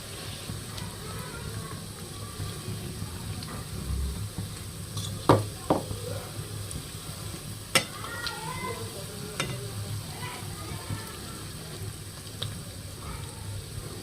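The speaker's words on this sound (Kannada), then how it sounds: "ಇನ್ನೊಂದು ಸ್ವಲ್ಪ ಹೊತ್ತು ಫ್ರೈ ಮಾಡ್ಕೊಳ್ಳೋಣ್ರಿ." Aloo bread tikki fry in a pan of oil with a steady close sizzle throughout, broken by a few sharp clinks and scrapes of a spatula, no voices.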